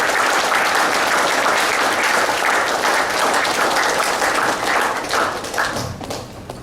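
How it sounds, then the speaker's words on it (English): Audience applause fills a talk on a personal journey, a dense, steady wash of clapping that stays loud for several seconds and tapers off slightly near the end, with no voices over it. "Round of applause, guys."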